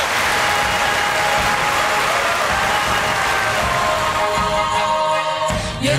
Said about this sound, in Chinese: 热烈掌声欢迎圣歌团带动